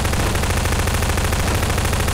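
Rapid automatic gunfire in Garry's Mod Prop Hunt, a dense, continuous stream of loud shots rattling without pause, close and steady throughout.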